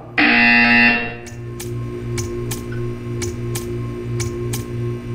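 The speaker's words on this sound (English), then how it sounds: "You will hear a buzzer." A loud, harsh buzzer blares for about a second, then stops, leaving a faint regular ticking over a low hum.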